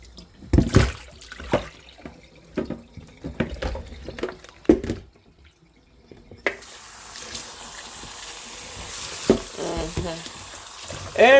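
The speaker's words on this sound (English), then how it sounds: "This is the yam and the sweet potato. So I'm going to wash this." Yam and sweet potato washed under a running kitchen tap: scattered clunks and splashes at first, then a steady rush of flowing water with rubbing and splashing over it.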